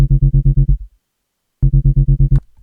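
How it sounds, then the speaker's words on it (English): Synth bass line in Ableton Live 12.4 without the Erosion effect, pumping from an LFO: two bursts of evenly repeated, punchy low notes separated by a short gap, dry and loud. "But without the erosion, this is what this bass line sounds like."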